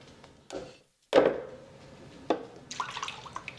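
Fermented liquid is poured from a container into a bowl in a home kitchen. A few separate splashes and knocks build to one loud pour that fades into a thin trickle and small drips.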